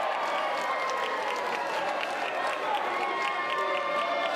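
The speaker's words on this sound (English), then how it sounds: "The crowd is hot and live here tonight." Live wrestling crowd in Melbourne, Australia, roaring steadily with cheers and applause, a dense continuous wash of noise from a packed arena with no pauses.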